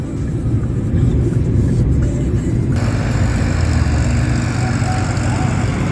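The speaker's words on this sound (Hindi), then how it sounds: "करीबन 80-90-100 के बीच में गाड़ी चल रही है" Car cruising at 80 to 100 km/h on the Delhi–Mumbai Expressway in fog, giving a continuous loud road and engine roar inside the cabin, with broadband wind noise rising partway through.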